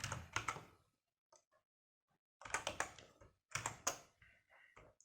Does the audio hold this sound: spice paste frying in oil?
no